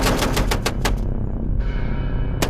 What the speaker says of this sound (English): the Ma Deuce requires no hand cranking. It automatically produces continuous fire